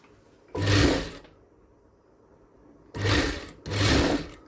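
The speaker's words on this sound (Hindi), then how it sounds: "इसमें डबल सिलाई लगा देंगे।" A sewing machine runs a double line of stitching along a blouse sleeve in two loud bursts, the first about half a second, then a pause, then two close runs near the end.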